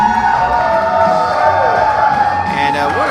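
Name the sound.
wrestling crowd cheering at the Homer Opera House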